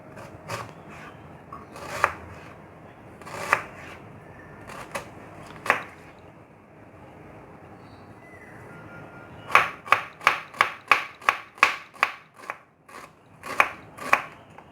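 A knife cuts onion on a board with crisp taps, first a few spaced strokes, then a quick regular run of about a dozen chops near the end. The sound is close and quiet in a still kitchen.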